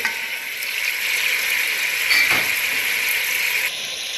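Long-cut potato pieces fry in a pot as the base for potato rice, a bright, steady hissing sizzle with a brief louder stir-like swell midway before it settles, no voices over it.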